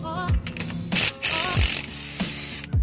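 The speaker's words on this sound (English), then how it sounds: "Rattling off the nuts now" A ratchet wrench spins nuts off under a car, an R32 Skyline with an oil drip, in quick rapid clicking bursts separated by short pauses, close and loud with a faint whirring edge.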